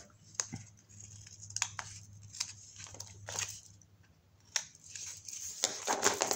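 Scissors snip the corners off a paper pocket for a Route 66 themed photo album, several crisp close cuts in an irregular rhythm with paper rustling between them, no talking.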